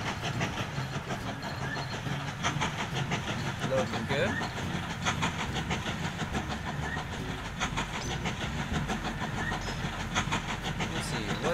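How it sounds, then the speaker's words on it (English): Train riding on rails through a snowy winter landscape in the game Mashinky, giving a continuous rolling rumble with rhythmic clickety-clack over the track joints, steady and close for the whole stretch, with someone talking briefly over it. "It's a lovely, lovely time of the year to be riding in a train."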